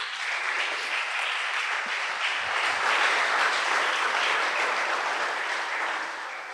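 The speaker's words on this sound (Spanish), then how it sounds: "démosle un aplauso fuerte a Dios" Sustained applause from a church congregation during a Spanish-language sermon, steady and dense clapping filling the room for several seconds with slight swells, no voices over it.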